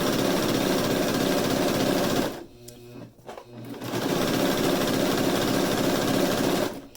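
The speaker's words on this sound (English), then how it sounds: "Just attaching now the elastic to the briefs." A sewing machine stitches clear elastic onto a pair of briefs, running loud and steady in close, continuous bursts with a short pause in the middle before the motor picks up again.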